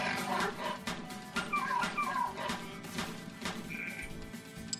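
Dogs in the survival game Westland Survival, a series of short barks and yips with whimpering tones, repeated across the stretch at moderate loudness amid game sounds.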